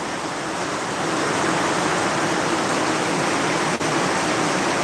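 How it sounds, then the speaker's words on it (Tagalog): Heavy rain pours down in a dense, constant roar of hissing noise with no breaks. "Kay Ma'am Ibing, napakalakas ng ulan."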